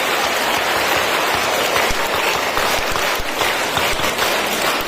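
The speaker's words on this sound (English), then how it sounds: "So please give a round of applause." A school audience applauds after a student's speech, a steady, dense wash of clapping that holds level for about five seconds with no talk over it.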